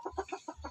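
A native hen clucks close by, five quick rounded clucks in a short rhythmic burst over a low background rumble.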